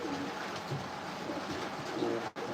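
Racing pigeons coo softly inside a breeder loft on a rainy day, low repeated throaty coos over a steady hiss of rain, with a brief thump near the end.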